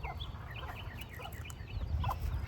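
Backyard chickens cluck and chirp in overlapping short calls over a steady low outdoor rumble, with no one talking.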